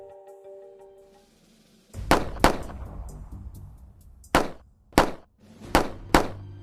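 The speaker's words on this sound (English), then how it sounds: "you may not recognize the sounds for what they are: gunshots" A string of sharp, loud bangs, roughly six shots in irregular bursts, each one a hard crack with a short decay, after a quiet hum.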